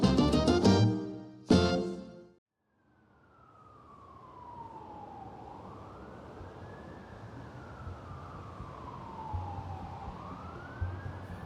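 Ambulance siren on a congested avenue, a single rising and falling wail sweeping slowly up and down at moderate distance over faint traffic noise, following a brief burst of other sound at the start.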